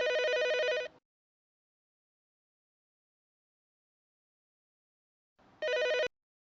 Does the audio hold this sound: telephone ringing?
yes